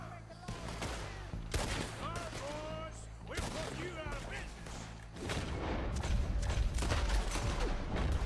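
Gunfire in the video game Red Dead Redemption 2 rings out in several rapid bursts and single shots amid game sound effects, with a player talking between the shots.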